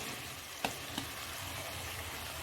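Chicken fries steadily in a pan over a high gas flame, a close, constant sizzle with two brief sharp clicks of a spoon or pan early on.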